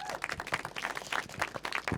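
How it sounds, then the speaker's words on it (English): An audience at a documentary Q&A screening gives brief applause, a dense patter of clapping hands, fairly close and moderately loud, with a few voices mixed in. "Give them a round of applause for this documentary."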